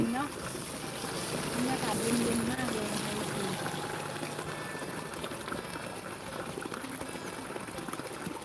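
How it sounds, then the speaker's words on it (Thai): A steady, dense roar of a rushing waterfall on a rainy day fills the scene, with a voice speaking briefly over it near the start. "เสียงน้ำตกดังสนั่นวันไหว"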